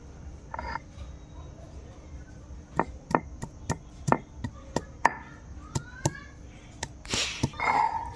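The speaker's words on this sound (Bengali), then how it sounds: "এবার আদাটা বেটে নেব।" Ginger being ground into a paste on a kitchen stone gives a run of about a dozen sharp, evenly spaced knocks, with a brief rough scraping near the end and faint room noise beneath.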